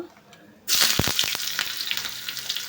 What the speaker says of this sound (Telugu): సో ఆయిల్ అయితే హీట్ అయిపోయింది ఇప్పుడు ఒక టీ స్పూన్ ఆవాలు వేస్తున్నాను